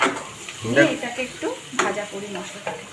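Spices, including chili powder, cumin, coriander and Kashmiri chili, stirred into fried onions for a mango chicken curry sizzle in a pan, with soft scraping strokes and steady crackling frying, close and fairly loud.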